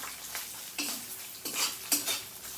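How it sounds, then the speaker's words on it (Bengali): Ground cumin, turmeric, chili powder and salt fry in a pan as a spatula scrapes and clinks against the metal in a few separate strokes over a soft sizzle, close but fairly quiet, without speech. "এই মশলাটা আমি আর একটু ভেজে নেব।"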